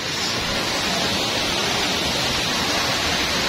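Waterfall at Delamar Resort in Iligan City, a steady, dense broadband rush of falling water that holds evenly throughout without breaks, loud and close, with no clear voices.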